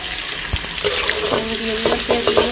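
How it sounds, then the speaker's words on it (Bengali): Chopped onion frying in oil in a village kitchen pan, a steady close sizzle with a few utensil scrapes and knocks over it, no voices. "পেঁয়াজটা লাল করতে দিয়ে দিলাম, হালকা লাল করে নেব।"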